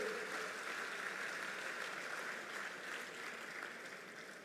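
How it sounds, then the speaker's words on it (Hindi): Audience applause at a Delhi government event inaugurating water projects, welcoming the city's chief minister; steady, dense clapping from a crowd held at even volume for several seconds, slowly fading slightly toward the end. "जोरदार तालियां बजाकर स्वागत करिए।"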